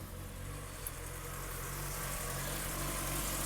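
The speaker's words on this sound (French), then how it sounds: "Je vais vous faire voir le moteur quand il tourne." A Volkswagen Golf 2 1.8-litre 90 hp engine idling steadily with a low, even rumble, close by and unchanging, with no voices.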